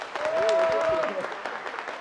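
An audience claps steadily at a taxpayer rights and tax reform forum, moderately loud and continuous, with a voice over the applause.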